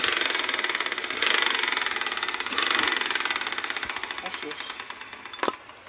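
A Yamaha Mio i M3 scooter with a noisy transmission runs at idle, a steady mid-pitched engine drone with rhythmic knocking pulses and a few revs, heard up close.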